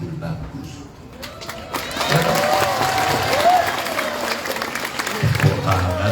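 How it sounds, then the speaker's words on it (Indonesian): A crowd at an istigosah gathering in an Islamic boarding school in Lampung claps, with a voice carrying over the sustained applause for several seconds. "Tepuk tangan lagi."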